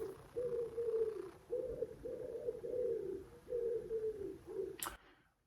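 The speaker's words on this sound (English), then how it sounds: "the wood pigeons are having a nice time." Wood pigeons coo outdoors over a park, a steady run of soft, low hooting phrases repeated in a regular rhythm at moderate distance. A sharp brief click near the end is followed by silence.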